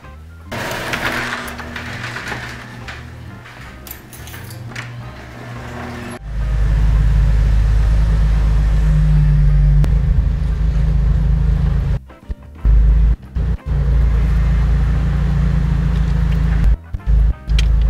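A lifted 4x4 Jeep drives along on its own with the steering wheel released. Engine and road noise rise to a steady loud drone about a third of the way in, with a few brief dips near the end.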